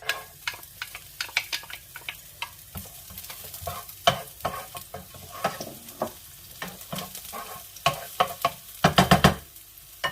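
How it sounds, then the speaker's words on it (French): Shallots sizzle in hot olive oil in a frying pan, a constant close crackle broken by quick scraping and tapping strokes as they are stirred, with a busier burst of clatter near the end. "Ma poêle est chaude. Je mets les échalotes."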